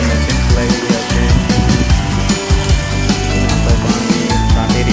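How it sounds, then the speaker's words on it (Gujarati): Plastering machine running on a construction site, a loud continuous mechanical clatter and grinding with rapid irregular knocks throughout, close and unbroken. "તો અમારા દિનેશભાઈ મશીન ચલાવી રહ્યા છે,"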